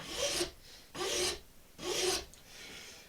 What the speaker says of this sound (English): I'm just going to file straight down.